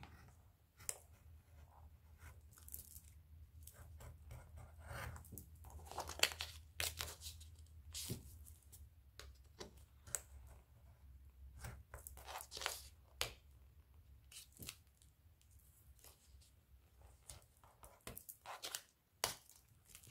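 Paper is cut for a shabby chic scrapbook photo album, giving faint, scattered snips, crinkles and rustles at close range with quiet gaps between them.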